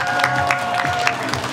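Wedding guests applaud together in a steady, moderately loud wash of clapping during the bread-loaf ritual at the reception, with a sustained musical tone and murmuring voices underneath.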